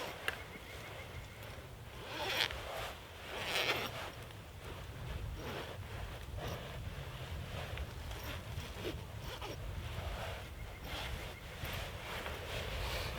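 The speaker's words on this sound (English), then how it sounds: "this is the moment where you really need to be careful with the zips, because this is where you'll get snagged" The zipper on Snugpak hammock insulation is worked along its track in a series of rough, scratchy pulls over steady outdoor wind and handling noise, with a couple of louder rasps early on.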